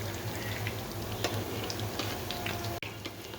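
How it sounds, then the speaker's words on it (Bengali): Small beguni, eggplant fritters in batter, fry in hot oil with a faint, steady sizzle and scattered light crackles and ticks. "বেগুনিটাও ভেজে নিচ্ছি ছোটো ছোটো করে"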